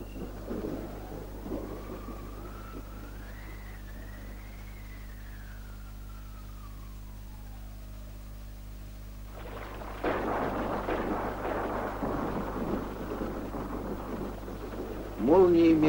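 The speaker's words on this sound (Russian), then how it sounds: "Приближается гроза." Approaching thunderstorm in a 1967 educational film: a long low rumble of thunder with a rising-falling tone, then a sudden burst of loud rain and wind-like noise from about ten seconds, with music-like hum underneath.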